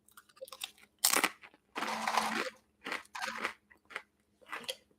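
Someone eats lunch up close, with crisp crunching bites and chewing in short irregular bursts separated by quiet pauses, and no talking.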